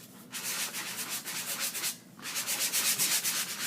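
A craft tool scrubs across a paper surface being roughed up for a blackboard effect, with repeated rapid rasping strokes, a short pause, then more vigorous scrubbing, close and alone.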